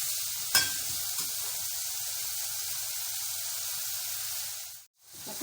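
Onion frying in a pot as the base for a pea stew gives a steady, even sizzle with a few faint stirring taps, then a brief drop almost to silence near the end before the hiss returns.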